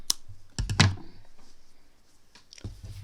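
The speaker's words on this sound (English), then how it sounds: "Stretch it back out, and then you can cut this excess off now." Scissors snip off excess crochet yarn close by, a few sharp clicks in quick bursts with a short pause between, no voices.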